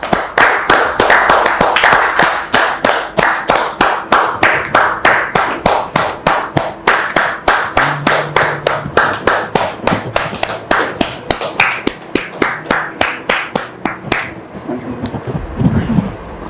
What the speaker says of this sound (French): Merci de recevoir notre frère sous vos applaudissements.